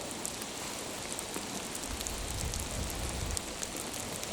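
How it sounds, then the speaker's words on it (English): Steady rain patters into a puddle outdoors, a dense continuous hiss of drops with no voices. "we're getting a shot of the rain in the puddle there"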